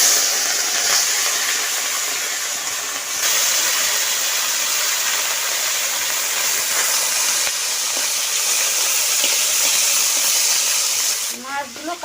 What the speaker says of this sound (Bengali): মাছটা ভেজে নেওয়ার জন্য কড়াইতে সর্ষের তেল দিয়ে দিব।